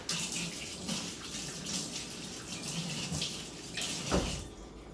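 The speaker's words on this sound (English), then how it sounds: "I'm going to take it to the sink and rinse it off in cold water really quick." A kitchen sink tap runs cold water to rinse off a bag of homemade ice cream, a steady close splashing stream with a brief louder gush near the end.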